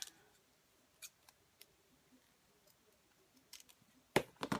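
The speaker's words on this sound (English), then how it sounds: "So I like to do this part first with a pair of just regular scissors." Faint, sparse snips and small clicks of regular scissors cutting folded cardstock in a quiet room, ending with a few louder, closer cuts.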